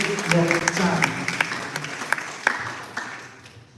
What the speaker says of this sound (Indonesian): Mohon tepuk tangan yang meriah dulu untuk Dr. Chan